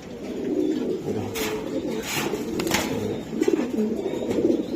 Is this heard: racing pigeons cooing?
yes